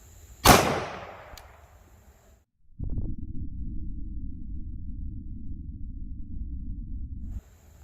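A 9mm Glock 17 with a longer barrel fires a single sharp, loud shot into ballistic gel, its crack decaying over about a second, followed by a short silence and then a steady low rumble of handling noise.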